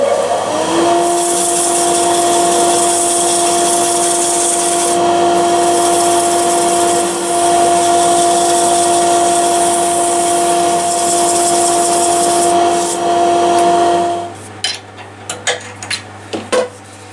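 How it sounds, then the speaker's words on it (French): Cherry wood bird feeder being sanded: a loud, steady whirring drone with a faint humming tone runs for about fourteen seconds, then stops, leaving a few light knocks and taps. "Allez, un petit peu de papier de verre."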